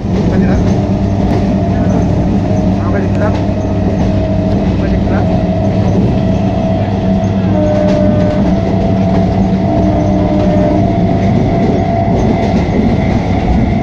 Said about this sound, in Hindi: इस ट्रेन में लौट रहे हैं